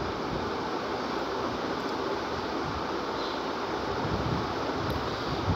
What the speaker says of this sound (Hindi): किस कदर खूबसूरती के साथ पानी गिर रहा है नीचे